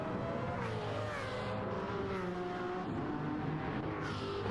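Race cars battle at the Le Mans Classic, a steady loud engine roar with rising and falling pitch as cars run single file out of a corner, continuous and close.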